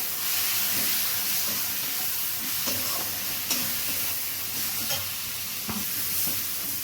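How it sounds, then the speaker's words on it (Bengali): Cumin and coriander powders in a spice paste sautéing in a pan for Bengali chicken kosha, a continuous close sizzle with occasional scrapes and clinks of a spoon stirring. "জিরে মশলাটা ভালো করে কষে নেওয়া হচ্ছে"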